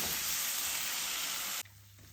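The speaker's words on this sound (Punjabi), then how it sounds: "ਦਹੀਂ ਚੰਗੀ ਤਰ੍ਹਾਂ ਮਿਕਸ ਕਰਕੇ ਆਪਾਂ ਭੁੰਨ ਲਵਾਂਗੇ" Spice masala mixed with yogurt sizzles in a hot pan for a Punjabi dum aloo potato curry, a steady close hiss that cuts off abruptly partway through, with no talking.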